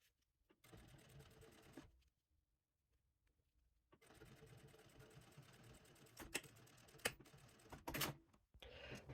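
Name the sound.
sewing machine top stitching a handbag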